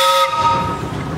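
Steam whistle on an 1889 Russell 10 horsepower steam traction engine at a parade, a short bright tonal blast that cuts off after a quarter second, leaving a low rumbling engine and crowd background.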